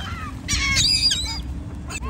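Geese or ducks honk at a picnic pond while being fed bread, a few short honks standing out over steady outdoor background noise and murmuring voices.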